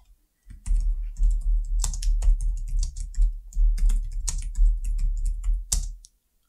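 Fingers type quickly on a computer keyboard, giving a close, dense run of crisp key clicks and thuds that stops abruptly near the end, with no talking.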